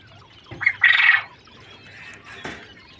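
Caged king quails kept for sale give a short, loud squawking call, followed by fainter chirps and a single sharp note.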